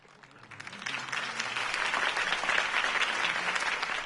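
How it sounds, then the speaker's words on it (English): A large crowd applauds after a political campaign speech. The clapping swells quickly from quiet to a dense, sustained roar and stays steady and loud throughout. "If only Mr. Wayne, my campaign's largest backer, could have heard that applause"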